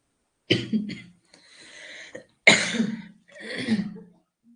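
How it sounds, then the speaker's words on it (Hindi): Several harsh coughs in two bursts, close to the mic, with a short raspy pause between them. "सॉरी, खांसी हो गई मुझे तो"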